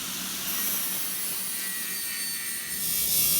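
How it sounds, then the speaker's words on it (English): Steady, close abrasive grinding on the inside of the steel jaws of a handmade blacksmith tong, a continuous gritty hiss that holds for a few seconds and swells slightly near the end, with no talking. "I need to grind the inside of the jaws just a little bit so that they grasp the stock"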